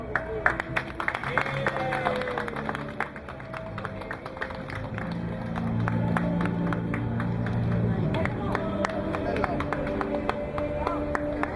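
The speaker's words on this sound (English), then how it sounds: "Nice round of applause for our mayor, Jose Joey Torres" A crowd at a Puerto Rican flag raising in Paterson applauds the mayor outdoors: dense, sustained clapping with scattered sharp claps and murmured voices throughout, loud and close.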